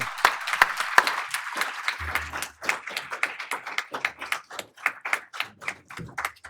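Audience applause at a civic event on trusted elections in Georgia, a modest crowd clapping in a loose, fairly close rhythm that thins out toward the end.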